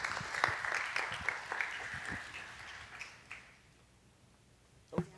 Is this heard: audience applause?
yes